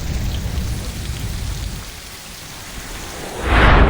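Heavy monsoon rain pours steadily in Gujarat, a dense close hiss, and near the end a loud rumbling crack of thunder bursts in and swells over the downpour. No voices.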